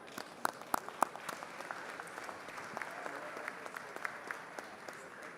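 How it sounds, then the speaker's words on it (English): Applause from the gallery of the Texas House chamber, a steady field of many hands clapping at moderate distance with a few sharper nearby claps, fairly faint overall. "will you please stand up for a round of applause from Reeves County?"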